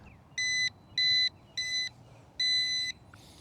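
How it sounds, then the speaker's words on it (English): A mini drone's controller gives a series of high electronic pairing beeps: three short evenly spaced tones, a fourth, then a longer one, clean and moderately loud against a quiet background. "that beep is kind of loud and annoying"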